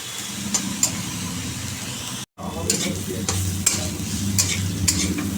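Vegetables frying with salt and turmeric, likely pointed gourd with neem, giving a loud continuous sizzle with repeated stirring scrapes, broken by a brief cutout midway, with no speech.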